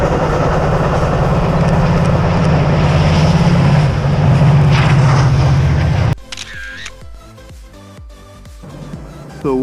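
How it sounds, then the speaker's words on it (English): A train rumbles past close by, loud and heavy for several seconds, before the sound cuts away to quieter clicking and shuffling. "there's another train going by."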